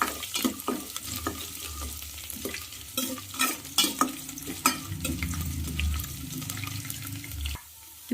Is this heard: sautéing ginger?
yes